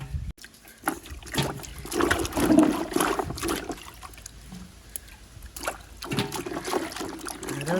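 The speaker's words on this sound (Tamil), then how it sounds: "நீரில் நன்றாக கழுவினால்தான் மண்ணின் மனம் போகும்" Palmyra tubers are washed by hand in water, giving irregular splashing and sloshing that comes and goes in bursts and trickles, fairly close with no talking.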